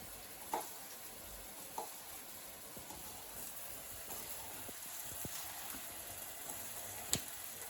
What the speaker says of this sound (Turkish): Şimdi kıvırcıklardan patatesleri kızartacağız.